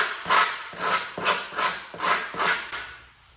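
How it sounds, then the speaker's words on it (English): Sandpaper is rubbed back and forth over the blade of an older OLFA snap knife to dull it, giving six or seven rhythmic raspy strokes, close and moderately loud, alone. "a piece of sandpaper here, and what I'm going to do is go ahead and purposely dull this"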